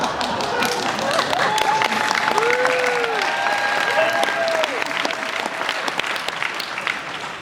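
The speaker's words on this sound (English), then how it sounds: "Always good when you can base on one person clapping so you have something to build up on." An audience applauds after a main-stage keynote speech in Washington DC, with steady clapping throughout and a few tonal sweeps and voices underneath.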